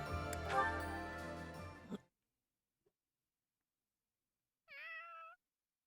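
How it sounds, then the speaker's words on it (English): A cat meows once in Fire Emblem: Three Houses. The single clear, rising-falling meow comes after a busy stretch of game sound and a moment of near silence. "I got stampeding cats all over the place."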